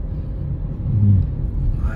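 A car engine rumbles low and rises in pitch as it accelerates during a manual-transmission driving lesson, heard from inside the cabin under a voice.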